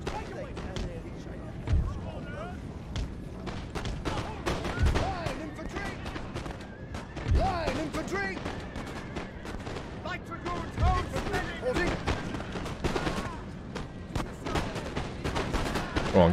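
Repeated musket volleys and scattered rifle shots crack out in a Napoleonic-era battle game, with distant cannon thuds, all under steady battlefield ambience and someone talking over the gunfire.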